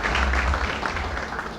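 Applause from a dinner audience at an educators' forum, a steady dense wash of many hands clapping at once that holds at an even level for the whole moment and thins only slightly toward the end.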